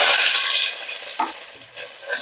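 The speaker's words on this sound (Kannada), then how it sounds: "ಈ ಚಕ್ಕೆ ಲವಂಗ ಸೋಂಪು ಜೀರಿಗೆ ಏನೇನು ತೋರಿಸಿದಲ್ಲ ಅದೆಲ್ಲ ಹಾಕೊಂಡ್ಬಿಟ್ಟೆ ಫಸ್ಟ್ಗೆ" Whole cinnamon, cloves, fennel and cumin sizzle loudly in hot oil in a pan for beetroot pulao, the hiss fading after about a second into quieter stirring with a couple of soft utensil clinks.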